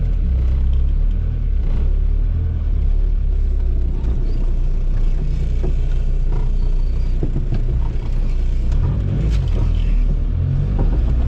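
A 1980 VW Rabbit swapped to a TDI diesel engine drives along with a steady, loud low rumble and road noise that hold throughout without pause, heard from inside the car with no talking.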